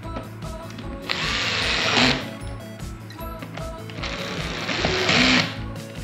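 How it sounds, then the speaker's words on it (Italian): A power drill whirs in two bursts of about a second each, its motor pitch shifting as it drives screws back into a Folletto VK 121 vacuum cleaner's top closing cap, with clicks and handling noise between. "Noi riandiamo con il trapano"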